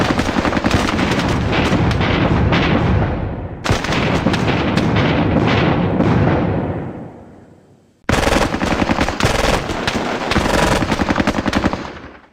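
M1 Garand rifles firing in a World War II squad tactics video game, loud dense volleys of shots cracking almost continuously, cut off briefly before another sustained burst, with no voices.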